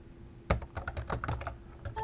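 Typing on a computer keyboard while entering a long file name to patch ESXi 5.0: a quick run of close, crisp key clicks that starts abruptly and continues in an uneven rhythm, with no voices.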